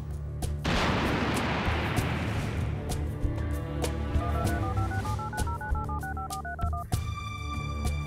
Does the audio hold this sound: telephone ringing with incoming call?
yes